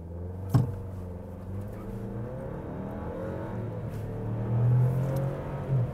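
A 2024 Ford Ranger pickup driving, its engine humming low and steady and swelling as it accelerates, with a sharp knock early on, heard from inside the cab without speech.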